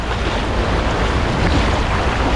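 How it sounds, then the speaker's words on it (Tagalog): Strong flood water waves rushing and churning near a bridge, a loud continuous broadband roar with wind buffeting the microphone and no talking. "medyo malakas po kasi yung alon"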